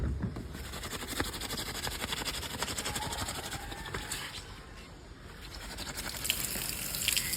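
Water runs and splashes continuously at close range while something covered in heavy ink is rinsed and scrubbed, a steady hissing wash with a few louder sloshes, and no voices.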